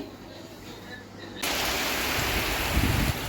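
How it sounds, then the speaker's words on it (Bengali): Heavy rain starts suddenly, a dense even hiss that switches on partway through and stays loud and steady, close by, with no voices. "বৃষ্টি পড়া শুরু হয়ে গেল ভালোই জোরে বৃষ্টি হচ্ছে"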